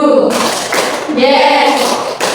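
A Grade VII junior high maths class claps in counted rhythm during a microteaching lesson, loud close thumps in short grouped bursts, with children's voices chanting along between and over the claps.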